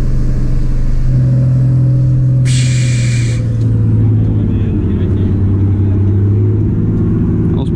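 A river ferry barge's motor runs continuously with a heavy, loud droning rumble and a strong low hum, a brief hiss breaking in midway, under a talking voice.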